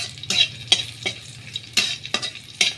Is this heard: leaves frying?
yes